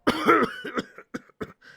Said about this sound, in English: Sorry, I think I got a cough coming on.